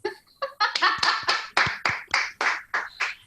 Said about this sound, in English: give them a round big applause.